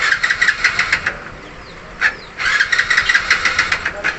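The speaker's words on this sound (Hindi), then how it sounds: "देखिए हम सेल्फ यूज कर रहे हैं" A Hero Splendor Deluxe BS6 motorcycle's self-starter whirs in loud rhythmic cranking bursts, stopping for a second, then cranking again without the engine catching, heard up close.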